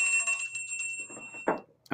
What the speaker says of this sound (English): you gave yourself a bell for your own draft